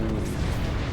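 A heavy, rumbling airstrike blast from Apex Legends, one continuous loud boom with deep low-end roar filling the whole second, no voices over it.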